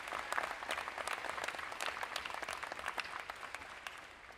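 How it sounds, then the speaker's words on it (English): An audience at an opening ceremony applauds the instructors, a dense wash of many hands clapping at moderate volume that holds steady and then slowly thins toward the end. "Let's clap for them, please"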